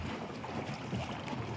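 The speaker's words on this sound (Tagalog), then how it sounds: "So this is our mother boat." Mother boat on open water near the shoreline during a whale shark outing, wind buffeting the microphone over a steady wash of water and hull noise, with no voices.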